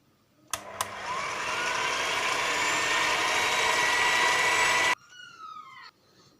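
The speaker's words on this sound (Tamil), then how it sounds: "ஒன்றா சேர்த்து மூடி வச்சு மிக்சியில் அரைச்சி எடுத்துக்கலாம்." A mixer grinder whirs loudly and steadily for about four seconds while blending semolina cake batter with eggs, preceded by a couple of sharp clicks and followed by a short, fainter winding-down whine.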